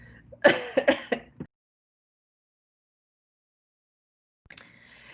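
A short burst of throat-clearing coughs up close, then silence, then a brief rough clearing sound near the end.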